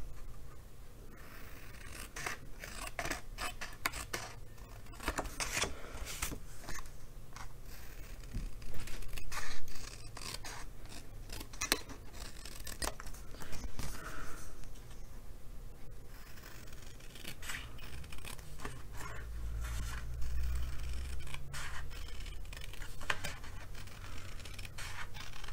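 Scissors cut through designer series paper along a traced envelope flap line, giving a rapid run of crisp snipping and rustling paper sounds, close and fairly quiet, with no talking.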